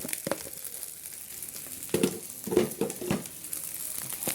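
Fried rice stir-fried in a pan: a soft steady sizzle with a cluster of scraping, tossing stirs in the middle, fairly quiet and close, with no voices.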